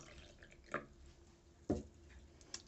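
Water goes into a small cup of tomato seeds as a few quiet, separate splashes and drips spaced apart against a near-silent indoor background.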